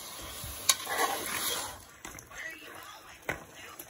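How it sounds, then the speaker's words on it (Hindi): Goat meat browns in oil over a medium flame, giving a soft, close sizzle broken by a few sharp clinks and scrapes of stirring. "इसको हम ऑयल के अंदर अच्छी तरह से भून लेंगे"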